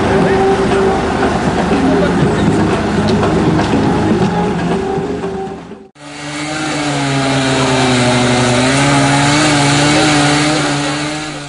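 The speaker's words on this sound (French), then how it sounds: "Elle débute avec les coupes de rails à la tronçonneuse ou au chalumeau" Loud, steady whine of a rail saw cutting railway rails during night track removal at Esbly, briefly stopping then restarting with a wavering, grinding pitch, close by.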